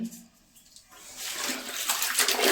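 Water sloshes and swirls in a container, growing louder after a quiet start as spinach leaves are stirred around by hand.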